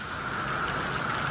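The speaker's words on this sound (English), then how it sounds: "A little sideways rain coming down on my screen porch." Sideways rain falling steadily on a screen porch, a dense, even hiss of drops that stays constant throughout with no voices.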